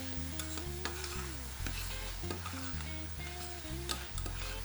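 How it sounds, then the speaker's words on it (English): Bacon chop frying in a pan with a little rapeseed oil and sweating onions, a steady close sizzle with intermittent scraping and stirring clatter, while background music plays. "So the bacon chop goes into the pan, little bit of rapeseed oil, and start frying it."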